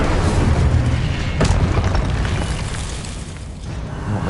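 An Incendio fire spell cast in the Hogwarts Legacy video game, heard as a loud, sustained whooshing roar with a brief burst partway through, rumbling on without any talk.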